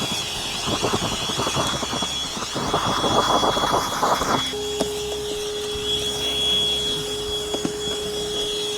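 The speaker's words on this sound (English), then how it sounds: "What I'll do is I'll give it one more little blow off." Compressed air blows dust off adhesive during an access control installation, a loud continuous hiss and whoosh near the microphone with rough fluttering bursts that cut off midway into a steadier, quieter hum.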